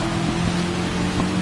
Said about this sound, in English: the rain noise is so loud on the replay